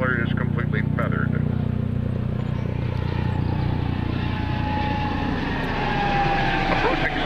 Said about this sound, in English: The number 4 engine will be shut down, and you will see those propeller blades standing stock still once the propeller is completely feathered